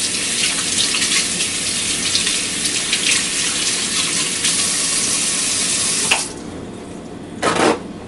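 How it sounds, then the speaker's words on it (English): Water runs steadily from a kitchen tap while hands are washed, a bright hiss that continues for about six seconds, then cuts off, followed by a brief splash near the end. "wash my hands off"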